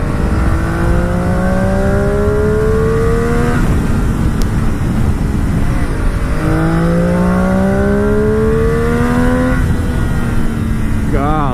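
A Triumph Daytona motorcycle accelerates hard through the gears on hilly streets, engine pitch climbing in repeated sweeps with brief drops at each shift, loud and close, with wind noise.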